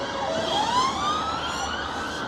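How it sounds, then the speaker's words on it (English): Several police cars race along Talbot Road in Blackpool, their sirens wailing loudly and rising in pitch as they pass close by, with no talk. "Is it 4 police cars?"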